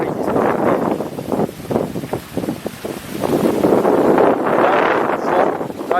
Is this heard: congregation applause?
no